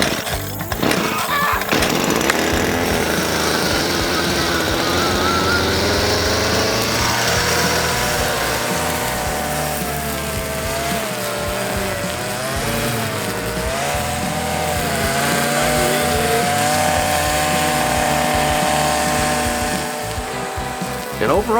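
A gas string trimmer engine fires up and runs loud and close, revving and wavering in pitch as it idles and speeds up, with a voice heard briefly.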